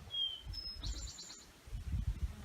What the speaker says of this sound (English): Birds singing us a song.